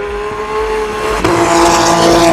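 Toyota prototype race car at night during the 2016 24 Hours of Le Mans, a loud, steady high-pitched engine whine that shifts sharply in pitch midway as it passes close, with a brief tyre-squeal texture.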